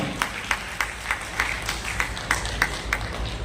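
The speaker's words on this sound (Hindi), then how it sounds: "बस जोरदार ताली हो जाए, कम ऑन" Crowd applause at an inter-school group dance competition, with rhythmic clapping in regular bursts about every third of a second and a loud, close, lively sound.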